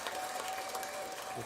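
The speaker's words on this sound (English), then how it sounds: "We do have that clapping soundbite. So I'll play that for you, Sean." A golf clap applause soundbite played on air during a sports radio show: soft, steady, continuous clapping from a small crowd, faint and distant, lasting about a second and a half.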